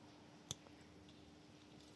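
A single sharp click of an electrical cable connector snapping into place on a Polaris RZR fitted with a CBR 1000 engine, one brief close snap against a quiet room.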